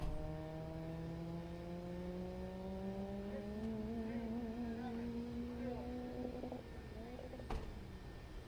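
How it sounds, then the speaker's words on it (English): A 1927 Ford Model T blown-fuel modified roadster in H class, racing on the El Mirage dry lake, its engine note rising steadily with acceleration and then cutting off, heard from a distance beneath a constant wind rumble. "car number 627 on course now. That is an H, blown fuel, modified roadster."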